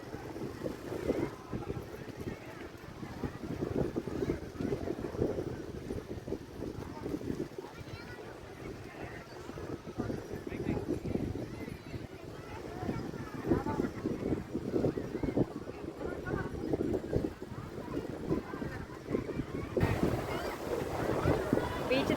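Beach ambience where people are bathing: waves wash in under a constant roar of wind buffeting the microphone, and voices talk over it.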